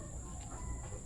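Gamefowl roosters being readied for a mid toss, soft low clucking under a faint steady hum, quiet and brief.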